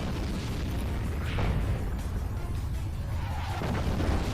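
Artillery fire in the tank game World of Tanks, with a dull, heavy boom over a constant loud rumble of game noise and no clear speech.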